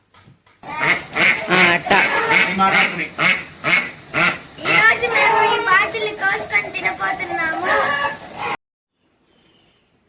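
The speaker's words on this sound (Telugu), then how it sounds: "ఇవి 8 బాతులు ఉన్నాయి." Eight ducks held before slaughter quack loudly in dense, overlapping bursts for several seconds, close by and mixed with people talking, then stop abruptly.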